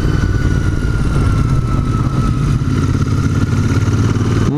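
A Royal Enfield Continental GT 650 café racer motorcycle runs close by with a loud, steady engine rumble and mechanical clatter, holding an even throttle without pause.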